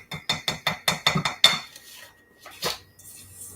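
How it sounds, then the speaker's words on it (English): A child stirs a peanut butter mixture in a bowl, a spoon clacking against the side in a quick, steady rhythm of about eight strokes, then a couple of slower scrapes. "So while she's stirring"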